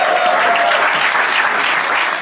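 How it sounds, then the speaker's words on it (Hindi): Loud, dense applause from a studio audience at a comedy talent show, a steady wash of many hands clapping close by for about two seconds. "एक बार जोरदार तालियां यार।"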